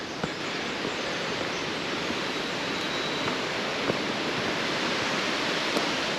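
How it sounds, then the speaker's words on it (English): Mountain creek running through a small forest gully in deep snow, a steady broadband rush of flowing water, continuous and fairly close, with no voices. "getting close to the creek in this little gully."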